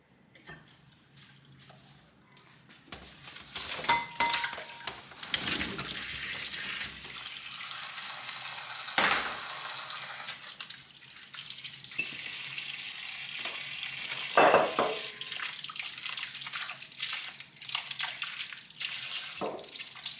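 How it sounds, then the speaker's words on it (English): Water runs and splashes steadily over tomatoes being washed, with occasional drips and handling clatter, no talking, continuing for about twenty seconds. "let's wash all these lovely tomatoes"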